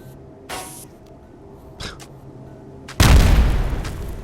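A deep, loud explosion booms in the video game RimWorld, a sudden blast that rumbles on after a few faint clicks and whooshes.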